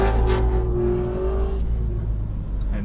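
A Porsche 911 GT3 RS engine drones close by as the car pulls away on a racing track. A strong, steady engine note shifts gradually in pitch throughout.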